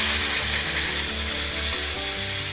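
Chicken pieces and sauce for General Tso's chicken sizzle in a hot pan, a steady, fairly loud hiss running continuously beneath a tonal, music-like background.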